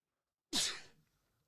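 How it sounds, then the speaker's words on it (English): A single sharp human sneeze bursts out close and loud, then fades quickly into silence. "I gotta sneeze."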